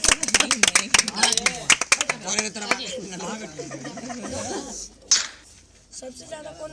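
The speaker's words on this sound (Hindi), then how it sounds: "इन लोगों के लिए जोरदार तालियां दिया जाए।" Audience clapping and cheering for the winners of a PUBG Mobile tournament, loud and dense for about five seconds and then tapering off into a few scattered claps, with a voice talking over it.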